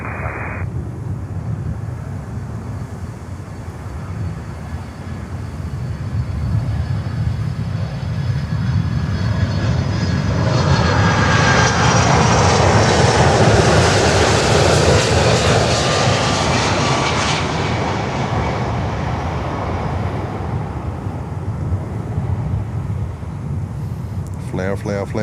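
An Atlas Air Boeing 767 jet lands at Miami airport, its engine roar swelling as it passes close and loud, then fading into a steady rumble after touchdown while someone talks over it.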